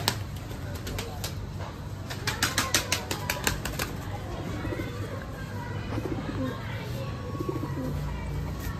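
Pigeons close by with a burst of rapid wing flaps early on, then soft cooing and bird sounds over a steady background hum.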